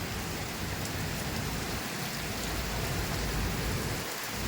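Heavy monsoon rain pours down in Mumbai: a dense, steady roar of downpour with continuous splashing and no pauses, loud and close, with no voices.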